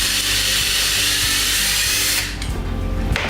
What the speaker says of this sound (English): take a drill bit about the same size as the chopstick, drill out that hole a bit larger